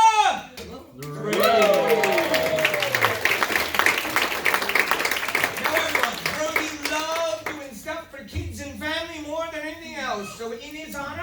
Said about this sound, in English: If I catch myself, everybody applaud like crazy.